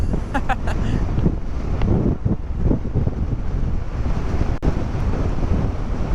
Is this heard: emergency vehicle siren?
no